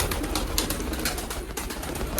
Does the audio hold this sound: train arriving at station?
no